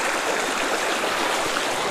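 Water rushes steadily at a waterfall on a hill near a tanda, a constant broadband roar that stays even and fairly close with no voices.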